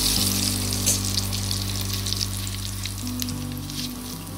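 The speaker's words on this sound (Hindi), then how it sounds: "सबसे पहले हमें ये पोहा फ्राई करना है, तो ये स्ट्रेनर में डाल के हम फ्राई करेंगे।" Poha fries in hot oil inside a strainer, a strong, continuous crackling sizzle held close over a low steady hum.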